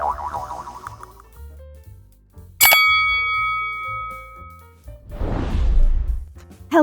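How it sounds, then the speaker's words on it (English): A bright notification bell dings once, ringing out with a long metallic decay over soft background music, followed by a whooshing swell. "ring the bell to never miss an update"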